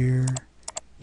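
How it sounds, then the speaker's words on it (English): Sharp mouse clicks on a computer while plotting a route in mapping software, a few quick clicks in two pairs, close and fairly loud, following a voice at the start. "I'm going to click here, here,"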